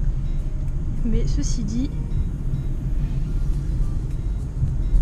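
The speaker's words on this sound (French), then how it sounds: "il paraît que les moteurs à 3 cylindres font un peu de bruit. C'est ce qu'on entend à l'accélération." A third-generation Citroën C3 with a three-cylinder engine accelerates, giving a steady low rumble beneath someone speaking French.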